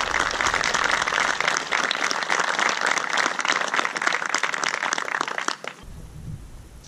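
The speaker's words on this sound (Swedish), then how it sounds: "Då ger vi medaljörerna i production en stor applåd." An audience at a Swedish Petit Prix competition in Karlstad applauds production-class medalists with loud, sustained clapping that fades and stops abruptly near the end.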